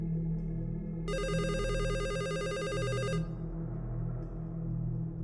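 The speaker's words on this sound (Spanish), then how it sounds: "cuando el teléfono volvió a sonar" A telephone rings with a bright electronic trill in a horror story, one sustained burst of about two seconds over a low droning ambient bed, fairly loud and alone with no voices.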